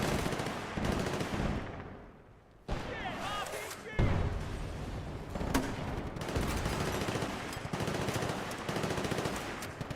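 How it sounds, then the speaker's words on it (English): Rapid bursts of automatic gunfire in the Battlefield Bad Company 2 campaign, firing at the player, loud and repeated in clusters with a brief lull, sharp cracks and slams over a busy battle soundscape. "Who the fuck is that shooting at me?"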